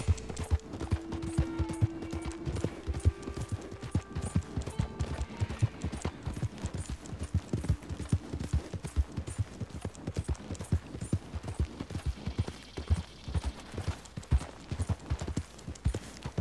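Horse hooves clip-clop at a steady trotting rhythm in the open-world game Red Dead Redemption 2, loud and close, continuing throughout with no talking.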